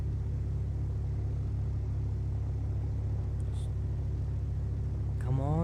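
A simulated aircraft engine in Microsoft Flight Simulator X drones with a deep, constant rumble, then its pitch starts climbing near the end as the throttle is pushed forward.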